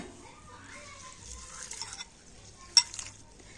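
Atap rice is rubbed and scrubbed by hand in a bowl of water, giving soft, quiet swishing and gritty rubbing in short bursts, with one sharp clink near the end.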